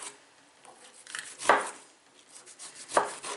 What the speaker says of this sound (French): Voilà, là je le coupe bien.